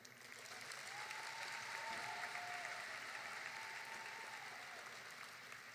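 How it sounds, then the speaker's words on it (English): Arena audience applauding an Indigenous elder at a National Indigenous Peoples Day gathering, a broad steady wash of clapping that swells and holds throughout, with a faint whistle-like tone drifting above it. "let's give another round of applause to Elder Duke Redbird"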